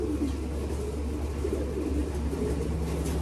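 A racing pigeon coos softly and repeatedly in a loft, low murmuring calls over a steady background hum.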